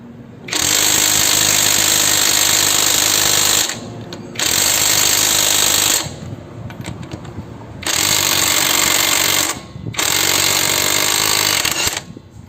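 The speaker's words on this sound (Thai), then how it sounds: "จะขันด้วยประแจบล็อกนะครับ เบอร์ 21 นะครับ" A cordless impact wrench with a 21 mm socket hammers at a nut to loosen it. It gives four long, loud, rattling bursts of several seconds each, separated by short pauses, close up.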